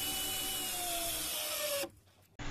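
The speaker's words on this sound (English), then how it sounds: "Just make sure to lay out the screw, a screw as a guide to follow as you drive your rigid structural screw in place." Power driver sinking a rigid structural screw into a timber truss, a loud steady whir for nearly two seconds that cuts off abruptly, followed by a brief quiet and a short restart.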